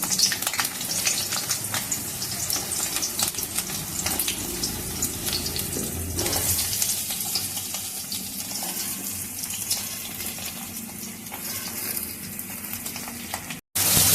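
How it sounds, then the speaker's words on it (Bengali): Pointed gourd and ridge gourd fry in hot oil in a home kitchen, a continuous close sizzle with spattering crackles that stays loud throughout, with no voices. "এবার ওই তেলেই আমি পটলটা আর ঝিঙেটা ভেজে নেব।"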